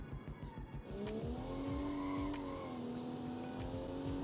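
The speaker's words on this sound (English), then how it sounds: "Put hard to the floor, slide the corner, keeps on going." A car in the video game Automation, a replica with a Ford Barra 270T inline six, slides around a corner with its tires squealing in a long sustained screech over the engine note, and no voices.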